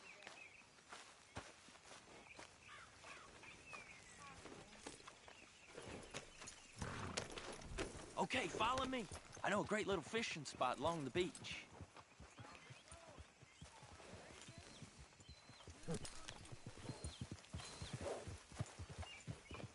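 Horse hoofbeats in Red Dead Redemption 2 as riders set off toward a beach, a steady clip-clop of walking hooves running throughout beneath conversation between characters.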